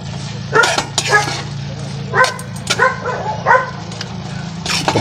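Several dogs bark in short bursts near a cooking area where frog adobo is being made, with yips scattered over a steady low hum and some background talk.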